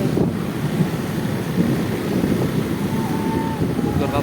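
Heavy rain with strong wind in Kajen, Pekalongan, a steady loud broadband roar of downpour and gusts lasting throughout, with faint voices in the background.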